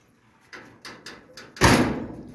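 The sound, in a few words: 1929 Chrysler passenger door closing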